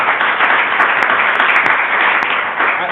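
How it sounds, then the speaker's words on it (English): Dense, loud applause from a conference audience for two speakers, a steady roar of many hands clapping that fills the whole three seconds with no gaps. "let's give a round of applause for our two speakers"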